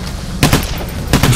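Two bursts of gunfire in the bank-heist shooter Payday: The Heist, the first at about half a second and the second near the end, each a short broadband crack over steady background game noise, with no talk.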